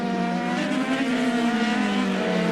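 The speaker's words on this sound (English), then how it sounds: "Sounds like someone's got an off-song engine out there." Formula 3000 race car engines in Brazil in 2002 drone loudly and steadily on track, a sustained high, buzzing tone with layered harmonics and no break.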